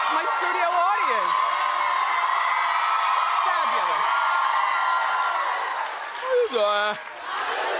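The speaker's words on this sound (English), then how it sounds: "With claps like that, terrific." A talk-show studio audience whoops, cheers and claps in a loud, sustained wave while the host speaks over it.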